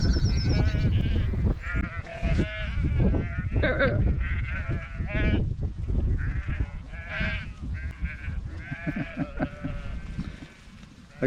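Flock of sheep on Offa's Dyke Path in the Welsh borderland, many overlapping bleats rising and falling, some close and loud, others farther off, with occasional faint rustling in between.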